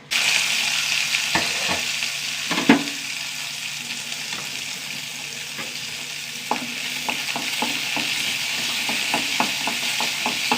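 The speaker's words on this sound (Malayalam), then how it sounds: "എണ്ണ ചൂടാവട്ടെ ഈ ഒരു സവാള ചെറുത് മതിട്ടാ" Onion sautéing in hot oil for a chutney, a steady close sizzle with scattered spoon-and-pan clicks from stirring throughout.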